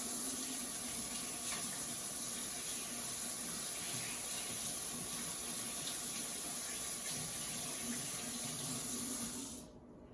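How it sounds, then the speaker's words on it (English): Tap water runs steadily into a sink for hand washing in a kitchen while grilling steak, a continuous even hiss at moderate level that cuts off just before the end. "wash your hands again"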